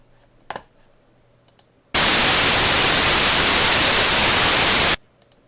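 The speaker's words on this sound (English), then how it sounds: "That's a particular type of noise called Gaussian white noise." A steady, loud hiss of Gaussian white noise lasting about three seconds, starting and stopping abruptly, with faint clicks before and after.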